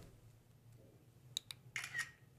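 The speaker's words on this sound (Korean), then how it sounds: "이렇게 한 번만 누르면 지금 포토 모드에서는 사진 촬영이 됩니다" A camera shutter fired by pressing the power button on a Zhiyun Smooth 2 gimbal in photo mode, heard as a few quiet, crisp mechanical clicks close by in a hushed studio.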